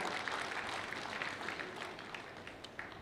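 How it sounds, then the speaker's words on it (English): Applause from an audience welcoming a presenter named Sarah Chelengat at an event, a steady dense wash of clapping filling the room at moderate level throughout. "round of applause for Sarah Chelengat"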